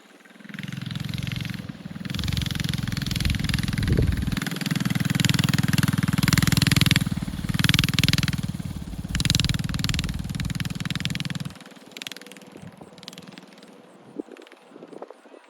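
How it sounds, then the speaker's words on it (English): A small Arctic Cat Prowler mini bike engine drones steadily while being ridden, loud and fairly close for most of the stretch before dropping away to quieter idle and faint background noise near the end. "That bike sounds so good coming back."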